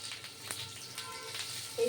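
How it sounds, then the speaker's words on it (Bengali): Pumpkin pieces frying in a pan, a soft, steady low sizzle with faint crackles, heard briefly and fairly quietly. "কুমড়োটা লাল করে ভাজতে হবে হ্যাঁ এটা ভাজা হোক"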